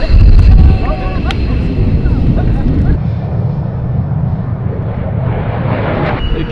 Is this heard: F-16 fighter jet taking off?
yes